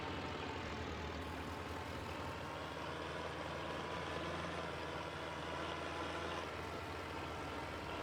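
A 3020 tractor engine in Farming Simulator runs steadily while pulling a hay rake, a continuous, loud, broadband rumble with no pauses or speech.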